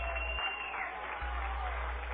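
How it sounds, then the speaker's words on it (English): A crowd at a minor-league baseball game applauds a pitcher leaving the mound, a short burst of steady clapping heard from a distance, with a voice speaking over it. "he gets a very nice round of applause from the folks"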